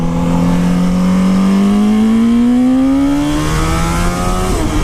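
A motorcycle engine with the exhaust removed and a leaking header revs steadily upward in pitch, loud and raw, then dips briefly near the end as if shifting, with no voices.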